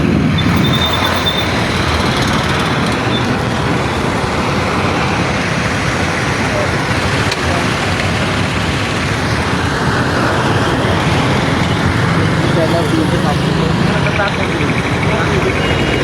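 Dense traffic jam on the Sylhet-Dhaka highway near Telibazar, heard as a steady, loud wash of road and engine noise that runs the whole time, with someone talking over it.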